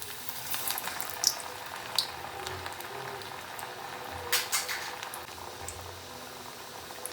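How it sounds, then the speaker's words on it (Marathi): Mung dal vadas frying in hot oil in a kadhai give a soft, continuous bubbling with faint scattered crackles and pops, quiet and without talk. "सोडून घेऊया तेलामध्ये"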